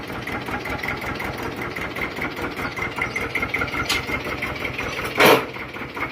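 An ISEKI TS 2210 tractor engine runs steadily with a low, even idle-like throb, close and continuous, with a brief louder knock or clatter near the end.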